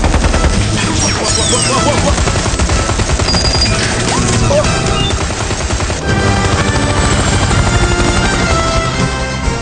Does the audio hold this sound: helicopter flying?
yes